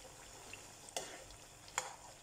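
Homemade potato fries sizzle faintly in hot oil, with two quick scraping clinks from a utensil stirring them.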